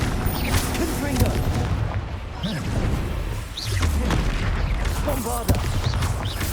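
Fiery blasting-spell explosions from Hogwarts Legacy, repeated booms and whooshing bursts layered over dense battle noise, with a voice calling out spells throughout.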